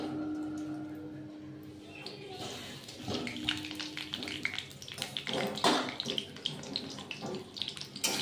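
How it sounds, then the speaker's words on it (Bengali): Potatoes frying in hot oil in a kadai, a dense crackling sizzle that grows busier and louder partway through, with a voice speaking over it at the start. "কড়াটা গরম করে আমি তেল দিয়ে দিলাম। ফার্স্টে আমি আলুগুলো ভেজে নেব।"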